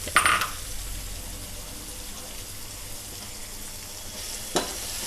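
Green chilies dropped into mutton frying with garlic: a bright splash and clatter at the start, then a continuous soft sizzle, with one more sharp knock of a spoon near the end, close by.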